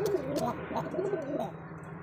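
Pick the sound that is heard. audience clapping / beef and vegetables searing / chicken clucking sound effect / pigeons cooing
pigeons cooing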